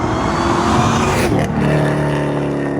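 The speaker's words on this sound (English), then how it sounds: "a 2013 Chevy Camaro ZL1. This thing is a 900 horsepower beast." A tuned, supercharged 900 hp 2013 Chevy Camaro ZL1 with a manual gearbox roars loud and close, a dense sustained engine note with a brief shift in pitch midway.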